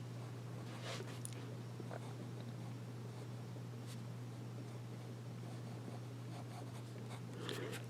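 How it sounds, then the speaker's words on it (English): A Schneider pen with a medium nib scratches faintly across paper in short strokes, close and quiet, over a steady low background hum. "Let's do some writing."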